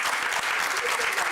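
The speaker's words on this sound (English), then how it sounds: "So a big round of applause to him." Dense, continuous audience applause in a hall at a hematology quiz during a medical festival, loud and even for the whole moment.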